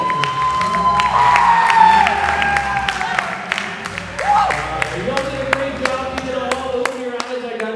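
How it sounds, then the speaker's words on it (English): A crowd applauding and cheering loudly at a high school comedy hypnosis show, with sharp individual claps cutting through and voices shouting and whooping throughout. "how about a huge round of applause for our band?"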